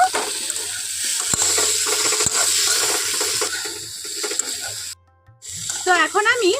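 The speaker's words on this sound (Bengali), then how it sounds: "সব কিছু খুব ভালোভাবে আমি এখানে কষিয়ে নেব" Mustard paste, chili powder and spices fry in a pan with a steady, close sizzle and intermittent stirring clatter. The sizzle drops out briefly, then returns. A voice talks over it.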